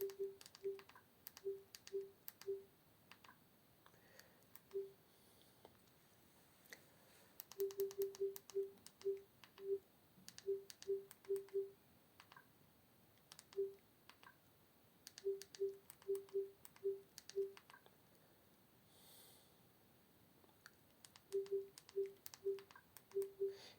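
Search text is entered on a Samsung smart TV with the remote, producing soft, evenly paced clicks and short electronic ticks in bursts, separated by quiet pauses, with no talking.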